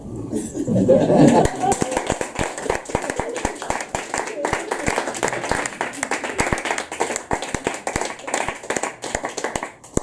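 Audience at a poetry open mic breaking into sustained applause with scattered laughter, a dense patter of claps that trails off toward the end.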